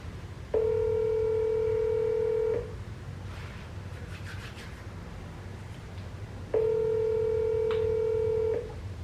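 An outgoing cold call rings on a phone, giving two long, steady ringback tones about two seconds each with a four-second pause between, loud and clear above a faint background hiss, with no talking.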